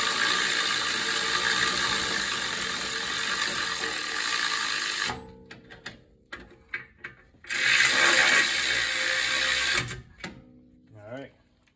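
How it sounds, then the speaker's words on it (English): A hand ratchet drives brake caliper bolts in during a lightweight two-piece rotor upgrade on a TLX Type S, giving a long steady run of rapid clicking, a pause filled with a few scattered clicks, then a second continuous burst. "I'm gonna drive them in with my ratchet."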